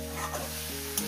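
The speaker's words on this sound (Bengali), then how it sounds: "এবার এটাকে আমি আস্তে আস্তে একটু নাড়াচাড়া করে ভেজে নেব।" Leafy greens sizzle in a hot pan while being slowly stirred, a steady frying hiss with occasional scraping clicks of the spatula, close and alone.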